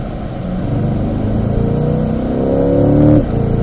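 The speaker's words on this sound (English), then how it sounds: "Use the throttle to help steer the car through there." A car in third gear accelerates hard through turn 8 at Spring Mountain during a performance driving session, its engine note rising steadily and loud and close throughout, with a brief dip near the end as the throttle eases.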